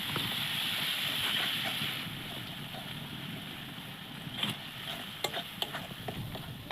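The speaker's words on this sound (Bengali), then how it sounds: "তারপরে দিয়া দিল জিরা দিনের গুঁড়া দিয়ে আবার ভালো করে নাড়াচাড়া করে নিব।" Spices and cumin powder are stirred in a frying pan for a mutton curry, with a steady sizzle and a few sharp scrapes of the spoon toward the end.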